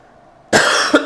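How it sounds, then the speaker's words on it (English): A livestream host coughs once, a close, loud burst of about half a second with a second smaller catch at the end, alone after near silence. "I apologize for the coughing."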